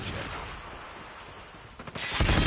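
Gunfire rattles through a Call of Duty Hardpoint match, a steady stream of shots under the game mix that swells near the end into louder, closer bursts.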